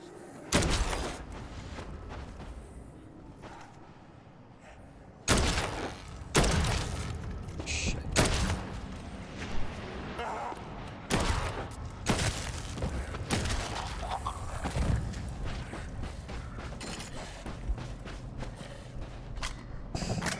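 Mortar barrage in the video game Dead Island 2: a rapid, irregular run of heavy, loud broadband blasts and thuds with mechanical clatter between them, continuing throughout.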